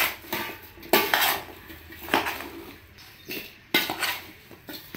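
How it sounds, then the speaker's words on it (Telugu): A spoon scrapes and clinks against a metal vessel as mango pieces are mixed with salt, fenugreek powder, mustard powder and turmeric, in a series of distinct scraping strokes with short pauses, close and moderately loud. "ఇవన్నీ ముక్కలకు పట్టేలా కలిపేసుకుందాం ఒకసారి అడుగు భాగం నుండి"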